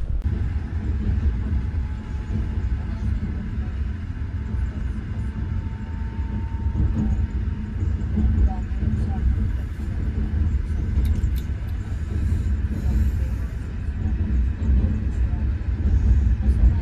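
A passenger train on the long-distance Vladikavkaz–Moscow route rolls steadily along the rails, heard from inside as a continuous low rumble with faint rattles and clicks over the full stretch.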